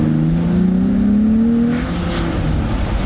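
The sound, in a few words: 2022 Nissan Z accelerating at full throttle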